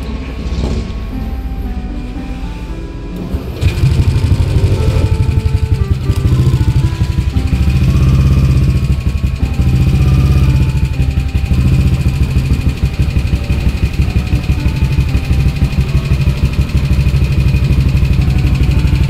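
An RS8 scooter engine starts and settles into a steady warm-up idle, running loud and close for a long stretch with no voices.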